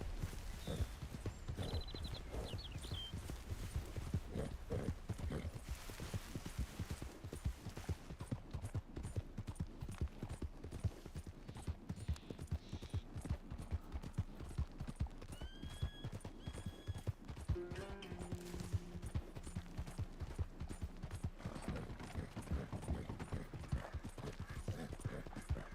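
Horse hooves gallop in Red Dead Redemption 2, a rapid continuous clip-clop close by, with a whinny and brief game sounds mixed in.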